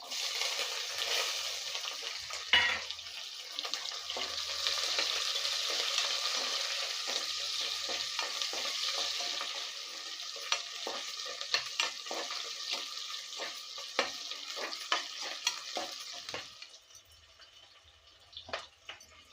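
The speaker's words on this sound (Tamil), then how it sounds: "பூண்டு நல்லா வதங்கிடுச்சு. இப்போது சின்ன வெங்காயம் சேர்த்துக்கலாம்." Fifteen cloves of garlic and small shallots sautéing in an oil-filled pan, a steady close sizzle with occasional scraping stirs that grows sparser and quieter toward the end.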